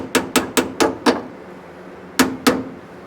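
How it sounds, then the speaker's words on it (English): Hammer blows tapping a 1 7/8-inch freeze plug into a VW bus engine block: five evenly spaced sharp metallic strikes, a pause, then two more, close and clear with no talk. "I tilted in on one side and try to hammer it in on the other."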